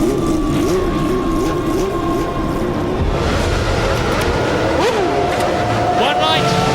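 Formula 1 99 race cars revving at the start, a dense loud whine and roar of many engines with rising pitch sweeps, under a commentator talking.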